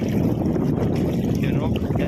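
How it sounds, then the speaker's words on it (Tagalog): Strong wind roars steadily into the microphone, a continuous low buffeting rush with faint water sounds beneath. "yung lakas ng hangin no. Oh. Hanggang ngayon malakas pa rin."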